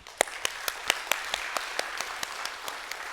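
A church congregation claps in an even, steady rhythm, each sharp clap separated by a short gap. The clapping is moderately quiet and continues for a few seconds with no talking.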